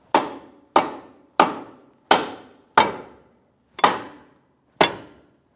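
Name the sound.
rubber mallet tapping a ball joint into the knuckle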